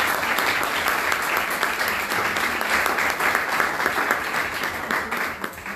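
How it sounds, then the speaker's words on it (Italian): Sustained applause from an audience at a press conference, a thick, even roar of many hands clapping that continues at a steady level throughout. "Particolare applauso."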